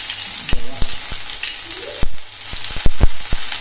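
Ginger and garlic paste fries in a pan with noodles, giving a hissing sizzle broken by sharp clicks and taps of a utensil, close and fairly loud, with no talk.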